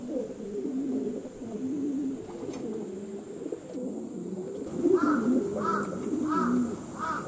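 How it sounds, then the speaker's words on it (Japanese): Racing pigeons circle low around their loft outdoors, with steady bird calls and coos through the clip and a run of repeated, clearer calls near the end over a constant background hum. "厩舎の周りを飛んでいました鳩たちがだいぶ低空になってきて、そろそろ降りてくるかなっていうタイミングになりました"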